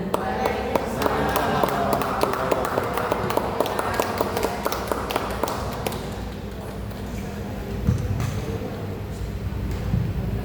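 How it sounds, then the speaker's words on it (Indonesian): An audience at a 2024 PPPK orientation seminar in Surakarta applauds a speaker. The clapping is dense and steady throughout, with a busy hall murmur underneath, and eases slightly in the second half. "tepuk tangan yang luar biasa untuk Ibu Suryanti"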